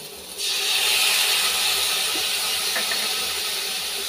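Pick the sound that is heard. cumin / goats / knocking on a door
cumin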